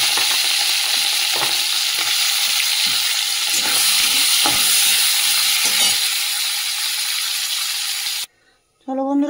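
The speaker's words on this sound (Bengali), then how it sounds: "যে চিংড়ি মাছটা ভেজে নিই।" Shrimp fry in hot oil in a pan, a loud, dense sizzle with a few clinks and pops, close and continuous until it cuts off abruptly near the end.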